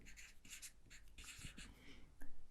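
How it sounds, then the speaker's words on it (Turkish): Marker or chalk writing a number on a classroom board during a fractions lesson, a few short scratchy strokes in quick succession, close and clear, with no talk over them. "Onun parça sayısını buraya yazalım."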